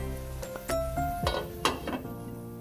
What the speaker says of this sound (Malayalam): ഇനി നമുക്ക് ഇതൊന്ന് മൂടി വയ്ക്കാം.